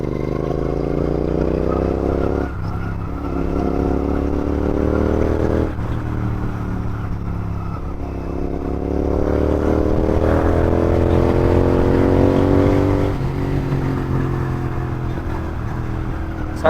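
Motorcycle ridden at over 100 km/h with the helmet visor open, recorded on a DJI Osmo Action 4: a loud, continuous engine drone with gear-change pitch sweeps under heavy wind rush, with no talking.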